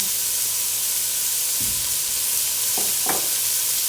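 Onion sizzling in avocado oil in a hot pan, a steady bright hiss throughout with a few soft stirring scrapes near the middle and end.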